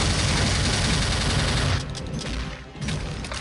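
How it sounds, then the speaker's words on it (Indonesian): A pulse reactor gun in Counter-Strike Nexon fires continuously and loudly, a dense wash of rapid shots that dips in intensity briefly before resuming near the end, with no talk. "untuk pulse reactor ini gua nggak perlu lagi ngisi peluru"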